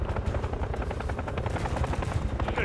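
A helicopter rotor chops steadily in a Call of Duty Modern Warfare III campaign mission, close and loud, mixed with rapid bursts of gunfire.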